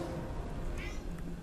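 A cat meows once or twice, close by, over a dense game soundtrack.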